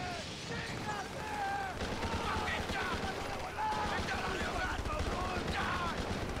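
Gunfire in the Scarface video game, a continuous rattle of rapid shots running through the whole stretch under a busy mix of game effects, voices and shouting close up.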